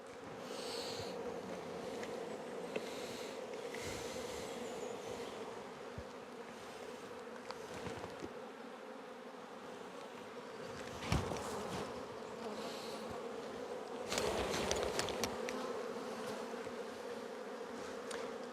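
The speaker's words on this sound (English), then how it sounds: "These are nice, friendly bees." Continuous buzzing of many honey bees close by, a dense droning hum with a few louder passes and light handling noises.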